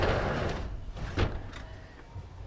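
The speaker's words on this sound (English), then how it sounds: "Sliding front door." Traditional sliding front door of a house in Japan rolls open with a brief rumbling scrape and a soft knock partway through, heard close against a faint outdoor background.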